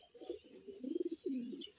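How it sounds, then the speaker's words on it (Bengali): Several white pigeons coo softly in low, throaty bursts, a few rolling calls in close succession with no talk over them. "আমার সাদা কবুতরগুলো আপনাদের একটু দেখাই"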